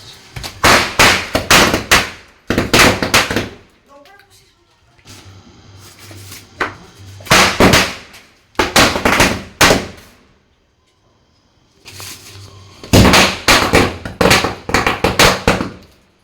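Diwali firecrackers burst in loud, dense crackling volleys, several separate bursts of rapid bangs with quieter gaps between, close by and outdoors with no talk.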